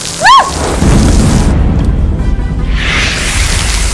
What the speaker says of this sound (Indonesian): Wah, hujan nih, Tri.